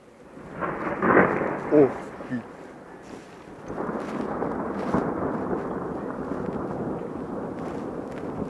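Close thunder during a violent electrical thunderstorm, a loud rumbling crack early followed by rolling thunder and steady rain; a person gives a brief exclamation.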